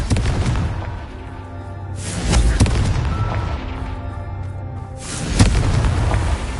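A Confringo blasting spell goes off in the Hogwarts Legacy game, giving deep booming bursts near 2 and 5.4 seconds over a steady rumbling background, loud and close, with no talk.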